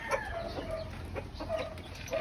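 Chickens being fed cracked corn and feeds, with several close clucks and short squawks rising irregularly over low farmyard background noise.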